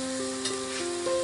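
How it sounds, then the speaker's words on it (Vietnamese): Dried shrimp and garlic sizzle steadily in a hot frying pan with oil, a continuous bright crackle broken by a few soft stirring clinks, close and alone. "tỏi vô rồi mình sẽ tao để cho cái tôm khô này nó có mùi thơm đó cả nhà"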